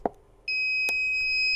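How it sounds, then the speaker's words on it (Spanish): Error beep from an AEG LT20 battery charger: a sharp click, then a steady, piercing high electronic tone that starts abruptly and holds loud and close, with a faint tick partway through. "Tiene un pitido bastante fuerte que avisa del error."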